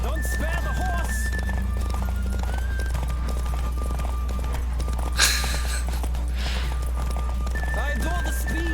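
Galloping hoofbeats from a horse in The Witcher 3 video game race along at a steady pace, mixed with game music and a voice chatting throughout, with a brief louder burst midway.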